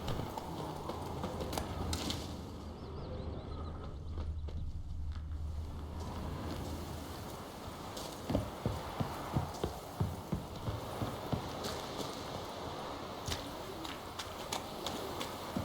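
The horse Roach clip-clops in The Witcher 3, with a steady rhythmic hoof beat that slows into distinct clops in the second half, while birds coo and chirp in a continuous ambient bed and there is no talk.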